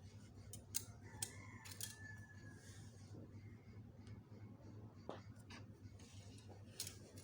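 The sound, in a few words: scissors cutting out fabric for a jumpsuit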